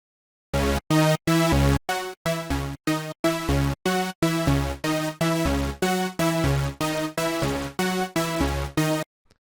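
Serum synth lead built from detuned unison saw oscillators spread wide, playing a run of short punchy chords with gaps between them, a bright, thick buzz with no talking.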